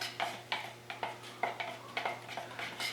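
Latex paint being stirred in a container, a steady series of about ten scraping, knocking strokes roughly every quarter second, close and moderately loud, with a constant low hum underneath.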